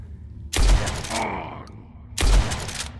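Two loud, close lever-action rifle shots about a second and a half apart, each with a sharp crack and rumbling tail, the first followed by a mechanical cycling clatter, in the first-person shooter Blood West.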